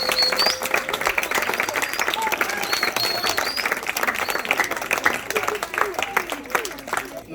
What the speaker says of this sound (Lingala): Bobeta maboko na yo.